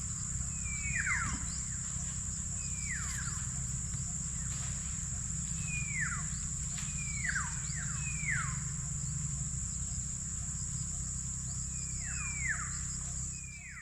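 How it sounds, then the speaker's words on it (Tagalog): Birds chirping outdoors, repeated short descending calls that come in pairs and small clusters over a steady insect drone and low rumbling background noise, with no talking. "Yan, ang ganda po ng mga huni ng ibon dito mga utol."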